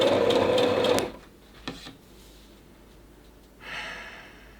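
A sewing machine stitches fabric in a loud, fast whirring burst of about a second and then stops. A few soft breaths and rustles follow, then a brief second whir near the end.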